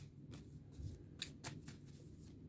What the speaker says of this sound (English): As we shuffle these cards up